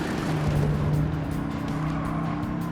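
A car engine in Gran Turismo 7 drones steadily at high revs with a constant tonal hum, close and even, no speech over it.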